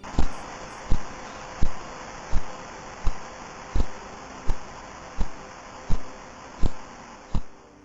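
Sonified radio signal of pulsar PSR B0329: sharp, evenly spaced pulses repeat every 0.7145 seconds over steady hiss, like a slow mechanical tick against static.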